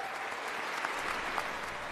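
Crowd of students and staff cheering and applauding inside a cathedral, a dense, steady wash of clapping with occasional whoops rising out of it, loud and continuous throughout.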